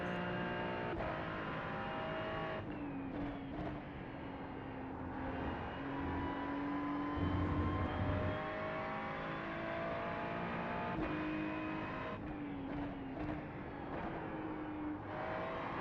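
GT3 race car engine in a racing video game, a sustained loud drone that climbs and falls through gear changes with revving and engine braking across the lap, steady and close with no talking.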